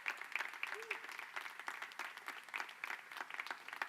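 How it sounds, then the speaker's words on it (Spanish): A room of people at a church service clapping together, moderately loud, with scattered cheers and a voice rising through the applause. "Vamos a darle un aplauso al Señor."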